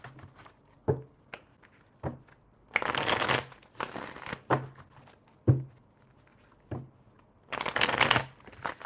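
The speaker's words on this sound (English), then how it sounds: "let me get these other cards" Tarot cards are shuffled in bursts, several crisp riffling flurries separated by short pauses and light taps, close and clear with no talking.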